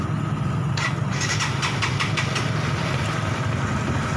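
A Honda CBR 150R motorcycle engine idles steadily and loudly up close, its running note uneven, with a faulty fuel supply suspected of holding it near 2000 rpm.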